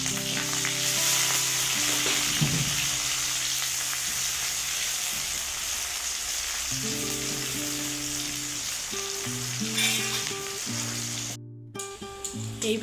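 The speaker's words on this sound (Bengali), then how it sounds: "এইভাবে আমরা পেঁয়াজগুলো লাল লাল করে ভেজে নেব" Onions fry in oil until browned for an egg and chana dal curry, giving a loud, continuous close sizzle with faint tonal sounds underneath.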